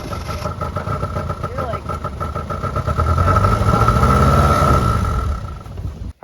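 An old, long-abandoned Mitsubishi-made Dodge Ram 50 engine cranks and then runs roughly, a close mechanical clatter that grows louder and steadier in the second half before cutting off abruptly, with voices over the start.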